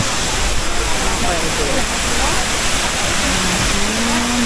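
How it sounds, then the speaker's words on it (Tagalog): Waterfall at a village valley spot with a restaurant nearby: a steady, loud, broadband rush of falling water fills the whole span, with faint voices and background noise underneath. "So, this is the waterfall."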